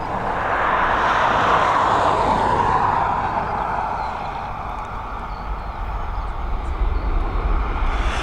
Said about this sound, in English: There we go, we're heading over to Madrid now with this Boeing 737 MAX.